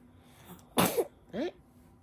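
A single sharp sneeze bursts out indoors, followed a moment later by a short spoken reply.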